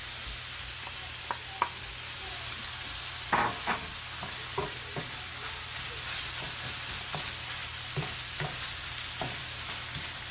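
Tomatoes frying in a pan for Chinese egg fried rice, a soft steady sizzle under a few sharp clicks and scrapes of stirring, close and fairly quiet.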